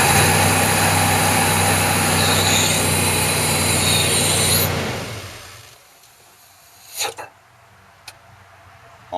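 A 1988 Ford F-150 with a 5.0 engine idles with a steady, loud hum and rumble, with all of its air drawn through the idle air valve, then cuts out about halfway, leaving near quiet with a few faint knocks.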